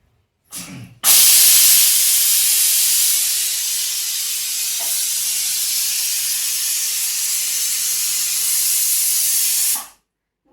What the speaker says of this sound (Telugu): ఒక విజిల్ వస్తే రెడీ అవుతుంది